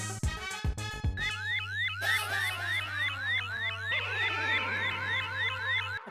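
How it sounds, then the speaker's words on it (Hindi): Beeping from a security metal detector machine: a repeated electronic tone with a steady low hum beneath, moderately loud and continuous, layered with sweeping alarm-like warbles. "ये मशीन बीप कर रही है"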